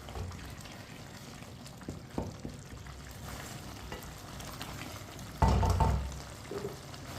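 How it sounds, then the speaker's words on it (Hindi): A spoon stirs ridge gourd cooking in its own released water in a pan, giving soft wet scraping and gentle bubbling, with one louder clattering stir near the end. No one speaks. "चम्मच चला लेंगे।"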